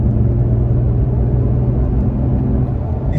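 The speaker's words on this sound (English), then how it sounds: "this is what it sounds like just cruising in fourth at 51 miles an hour. Give it a little gas." Toyota Tacoma cruising in fourth gear at 51 mph, a steady low engine and road rumble that holds even and close throughout with no change in pitch.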